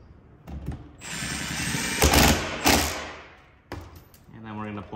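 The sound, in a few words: tightening bolts on an F-350 truck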